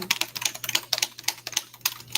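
Quick, steady typing on a keyboard with tall, deep-travel keys: dense, crisp clacks close up, with no talking.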